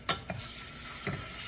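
Crushed fresh garlic sizzles in onion oil in a pan, with a few quick scraping stirs over a steady frying hiss.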